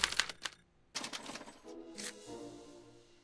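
A special typewriter from the Back to the Future video game clatters out a punch card, with bursts of rapid sharp keystrikes and mechanical rattles followed by a softer whirring tail, quiet and close.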